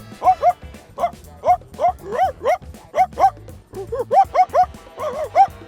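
A person vocally imitates a dog, giving a run of about a dozen short, rhythmic yipping barks, loud and close, with no other talk over them.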